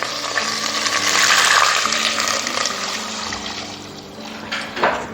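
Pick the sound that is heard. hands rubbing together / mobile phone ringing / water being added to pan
water being added to pan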